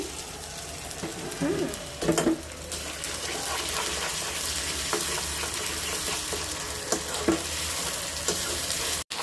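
Ginger and garlic paste fries in a pan with a loud, continuous crackling sizzle and occasional stirring scrapes, with no talk.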